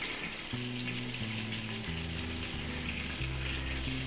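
Ghee heats in a pan for garlic rice with a steady, soft sizzling hiss, while low sustained musical tones play underneath throughout.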